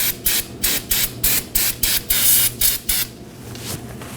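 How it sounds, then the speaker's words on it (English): Brake cleaner sprayed onto a brake drum in a rapid series of about ten short, sharp aerosol hisses, then one longer burst, loud and close, ending in quieter wiping. "I'm going to clean the drum with some brake cleaner and a rag"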